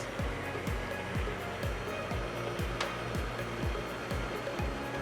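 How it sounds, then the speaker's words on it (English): An electric mixer runs at high speed through a batch of ingredients, giving a steady, close whirring drone with a regular pulsing beat throughout, and no talking. "I don't like to put things like that on a mixer because once you turn the mixer up pretty high, it will actually pulverize things"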